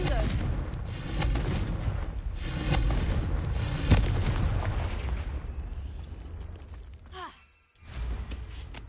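Confringo blasting spell in a Harry Potter video game, a loud, booming burst of magical explosions and rumbling blasts layered with game effects, sustained then cutting out briefly before resuming.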